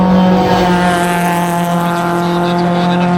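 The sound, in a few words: V8-engined race car driving up the hill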